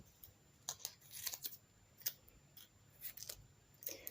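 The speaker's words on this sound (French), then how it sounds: "Je vais le maintenir avec un petit scotch." Sticky tape is pulled and pressed onto a cardboard drawing folder in a series of quiet, close, crinkly tearing and tapping sounds with short gaps between.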